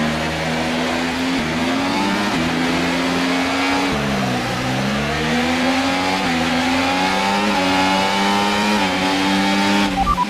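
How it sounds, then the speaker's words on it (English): An F1 24 race car launches off the starting grid at the Shanghai sprint race in the video game, its engine screaming loud and continuous as it revs up through the gears with rising and falling pitch. "Let's try and get a good launch as the lights go out"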